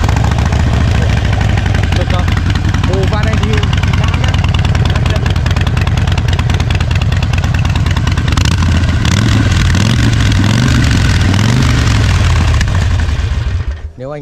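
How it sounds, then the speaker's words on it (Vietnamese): A Harley-Davidson Iron 48 with a 1200cc engine is started and revved up close. It gives a loud, continuous, deep rumble whose pitch climbs and falls with the throttle toward the end before it cuts off abruptly. "Nổ máy cho anh em nghe. Một con cơ bắp Mỹ, tiếng gầm thét của nó."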